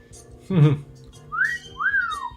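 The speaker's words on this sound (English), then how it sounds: "Yeah, I can wolf whistle too." A person gives a two-note wolf whistle, a rising whistle followed by a longer falling one, close and clear, just after a short burst of other sound.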